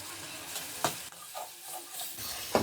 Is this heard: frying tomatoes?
yes